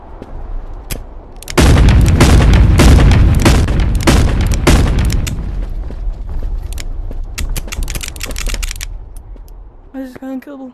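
Rapid gunfire and heavy booming explosions fill a chaotic stretch in the video game Animal Company, dense and loud at first and thinning into scattered shots, with a player's voice near the end.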